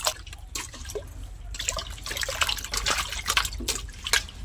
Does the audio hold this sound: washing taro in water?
yes